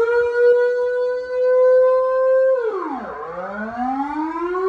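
A loud alarm siren in Amsterdam holds a steady wailing tone, then sweeps sharply down and climbs back up into a rising howl, continuous and close with no voices.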